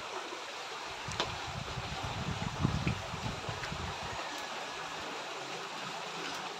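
A river swollen with water flows steadily in a continuous broadband rush, moderately loud, with a denser low churning stretch in the middle and no voices.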